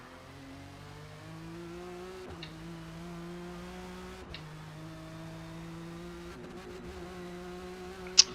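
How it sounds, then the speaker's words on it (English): Cadillac CT4-V Blackwing engine in the Forza Motorsport racing game, holding a steady drone that drops sharply at each quick upshift, three or four gear changes in a row, fairly quiet and with no talk. "I keep getting more used to of shifting without pressing the clutch, just by shifting like manual."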